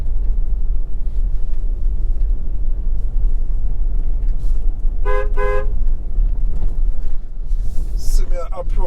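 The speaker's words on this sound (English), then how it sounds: "See me approach a corner right now, make sure I blow my horn." A car horn sounds twice in quick short toots on a country road in St. Elizabeth, Jamaica, then again in a couple of brief beeps, over a loud, constant in-car engine and road rumble.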